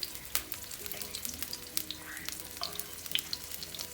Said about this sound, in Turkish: soğan suyunu saldığı için böyle yağ gelince sıçrıyor illa ki bu gayet normal